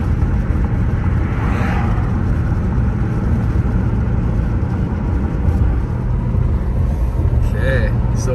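A car drives down a street in Big Bear before a major winter storm, with a steady loud road rumble and engine drone filling the cabin throughout, while a person talks over it.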